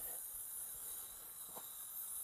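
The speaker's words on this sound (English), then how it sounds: "put some bug spray on it. Just let it wait a little bit. Like so, maybe in the meantime, what you can do is spray the other side." Bug spray aerosol applied to a car headlight lens: a faint, steady hiss of spray running continuously, heard from a short distance with no voices.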